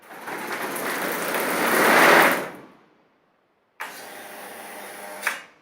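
A film unwinding machine runs with a steady broadband whir that swells and stops, then after a short silence runs again, ending with a sharp cutting click.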